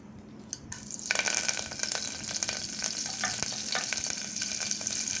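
Chana dal and curry leaves tempering in about two tablespoons of oil inside a cooker, a steady bright sizzle and crackle starting after a brief quiet moment and continuing loud and close throughout, with no talking.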